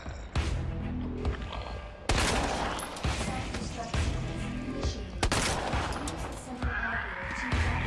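Gunfire in the video game Resident Evil 2 as zombies are shot: loud, heavy shots land about once a second or two in a steady rhythm, each with a ringing tail.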